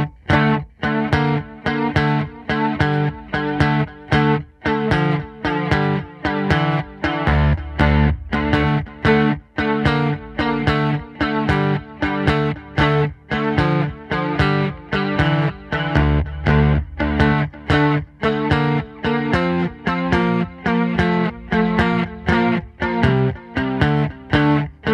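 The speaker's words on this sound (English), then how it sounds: "Absolutely tremendous bass line" Electric bass plays a riff through echo and distortion effects, a repeating rhythmic line heard alone and loud throughout.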